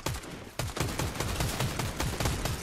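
Rapid gunfire from the video game Fortnite: a dense burst of repeated shots in quick rhythm, a short pause, then a steady volley of evenly spaced bangs, fairly quiet and alone.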